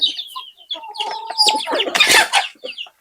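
Free-range desi chickens cluck and squawk loudly at close range while pecking at feed laid out in a long line, the calls overlapping in a busy, agitated burst.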